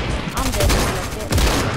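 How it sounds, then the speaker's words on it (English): Gunfire in a PS4 Venom game session, a dense rattle of shots with two heavier booms including a shotgun blast, over constant background noise. "I hit him once with the shotgun."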